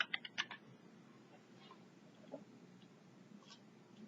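Quiet typing on a computer keyboard, a quick cluster of clicks at the start followed by a few sparse, faint keystrokes against a low room hum.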